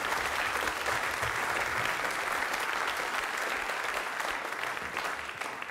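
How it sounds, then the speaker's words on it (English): Sustained audience applause fills the room after a rhythm section workshop performance by young jazz musicians at an International Jazz Day education event, steady and dense throughout and easing slightly at the end. "Let's give them another big round of applause"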